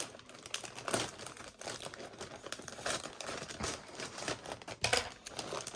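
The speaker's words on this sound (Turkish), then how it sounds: "Minik maket bıçağımı bulamadığım için makasla direkt şuradan yırtalım." Scissors tearing open a large plastic cargo bag of stationery, with close crinkling, snipping and ripping of plastic film in irregular bursts throughout.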